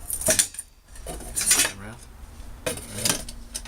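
Camping stove set with a kettle and two nesting pots clinking and clattering together in three bright metallic bursts, close up, with a brief spoken word among them.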